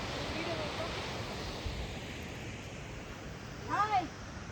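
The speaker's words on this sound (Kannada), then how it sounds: "ಬ್ಯೂಟಿಫುಲ್ ಜೋಗ್ ಜಲಪಾತನ ಇದು." A steady, broad roar of rushing water from Jog Falls fills the clip, with a brief voice rising near the end.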